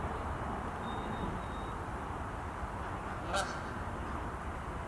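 A goose in a backyard flock with ducks and chickens at a home in New York gives a single short honk, faint and somewhat distant against a quiet outdoor background.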